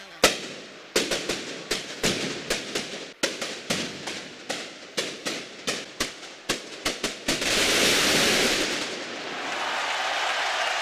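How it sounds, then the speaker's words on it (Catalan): A tronada firecracker barrage opening the Festa Major of Sant Pere in Reus: a loud, rapid series of sharp bangs at a steady rhythm, ending in a dense, roaring crackling burst. "l'encesa de la primera tronada de la Festa Major de Sant Pere"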